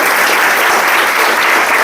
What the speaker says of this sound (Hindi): दीपल मैम, नीलेश सर, के लिए एक जोरदार ताली होनी चाहिए।